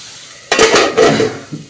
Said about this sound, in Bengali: আর এখানে হচ্ছে আলু ভাজা